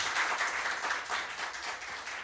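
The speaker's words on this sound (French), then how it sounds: "Allez, public, je veux de petits applaudissements" Studio audience at a French-language quiz game show gives a modest round of applause, a continuous crackle of many hands at moderate distance that gradually tapers off, with no voices above it.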